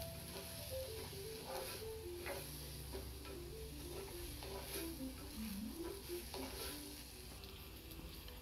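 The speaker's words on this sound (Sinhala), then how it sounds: "දැන් මේකට ලුණු ටිකකුත් එකතු කරලා තව ටිකක් තෙලින් තැම්බෙන්න අරින්න" Tomatoes and salt simmer in oil in a pan for bitter gourd curry, a continuous soft sizzle with occasional stirring scrapes, faint and close, with quiet background music.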